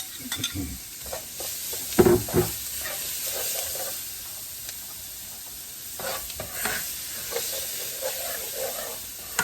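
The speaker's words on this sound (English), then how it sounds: "I am now going to add my onion, green pepper, and celery and stir for 3 to 5 minutes" Onion, green pepper and celery sizzle loudly in a pot for gumbo while a spoon stirs them, with repeated scraping bursts over a continuous hiss.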